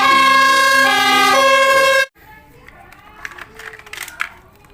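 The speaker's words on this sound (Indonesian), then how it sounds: "ini adalah mobil pemadam kebakaran" A toy fire truck's electronic siren wails loud and tonal for about two seconds, then cuts off abruptly, leaving faint clattering handling noises.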